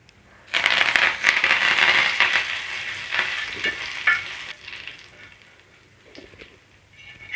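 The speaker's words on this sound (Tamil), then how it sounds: "இப்போ நம்ம எடுத்து வச்ச கருவேப்பிலையை இதில் போட்டு பொரித்து எடுத்துக்கலாம்." Curry leaves crackle and sizzle loudly in hot oil after fish frying in a village-style kitchen, a dense burst of spitting that settles into a quieter fizz. No one speaks.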